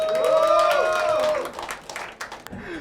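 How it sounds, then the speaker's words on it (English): An audience at a comedy club's magic show breaks into a round of applause for a volunteer; clapping swells in after a brief tonal sound and continues in uneven bursts. "Can you please join me on say round of applause for him?"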